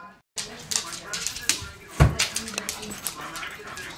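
A dog whimpers and yips softly in short, uneven bursts, close by, while people talk warmly over it.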